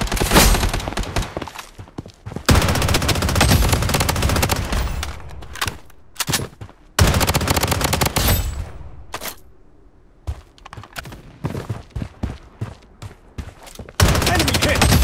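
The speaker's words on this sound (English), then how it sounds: "Taking fire!" Gunfire in the shooter game Blood Strike: several long bursts of rapid automatic fire alternating with single sharp shots and thuds, loud and close, with brief quiet gaps between bursts.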